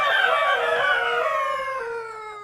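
Chickens crowing in the TerraFirmaCraft video game: a single long rooster call that slides downward in pitch, loud and close, and fades out over about two seconds.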